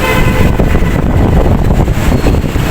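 Metro train at Ichhra station in Lahore running as a loud, steady rumble that stays level for the whole stretch, with no voices over it.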